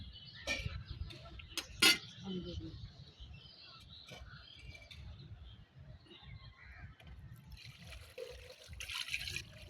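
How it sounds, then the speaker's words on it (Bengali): Water poured into a pot of chicken khichuri, a soft trickling and splashing pour heard faintly in a quiet home setting, with a sharp clink near the start and light background sounds. "পানি দিয়ে দিচ্ছে"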